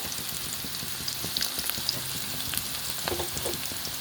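Spices frying in a pan for a restaurant-style paneer and brinjal gravy, a steady close sizzle with small crackles and occasional stirring scrapes, no voices.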